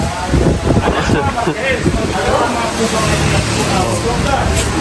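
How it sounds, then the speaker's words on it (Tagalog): Strong wind at a resort roars and buffets the microphone continuously, with a person talking underneath the gusty rumble. "ang lakas ng hangin mga Kalingap."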